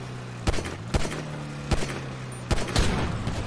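Several sharp bursts of video game gunfire, about five quick reports spaced unevenly, fairly loud over a steady low hum.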